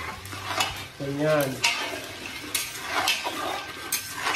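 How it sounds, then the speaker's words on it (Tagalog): Peanuts frying in shallow oil in a pan, stirred continuously, with close scraping and rattling of the nuts over a soft sizzle; a brief spoken word and other voice fragments break in. "So, umpisa na po natin ang paghalo sa mani."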